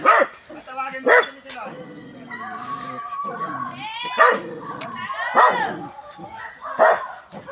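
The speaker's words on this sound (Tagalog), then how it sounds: "May aso." Dogs bark in short, sharp bursts scattered through the clip during a walk through rice fields, some close and loud, others fainter, with a murmur of voices between them.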